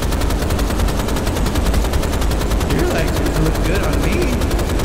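Loud, continuous rapid-fire gunfire pours into the boss Sebastian in the 2013 Rise of the Triad remake. The steady rattling stream of shots fills the whole moment, with a voice faintly mixed in.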